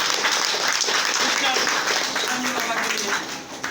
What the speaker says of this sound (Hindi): मैं चाहूँगा उनके लिए बड़ा जोरदार तालियों से स्वागत है